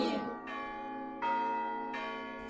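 Church bells ringing for Easter morning in Ukraine, several resonant strikes about every second or so, each ringing on with a long humming decay, moderately loud and clear.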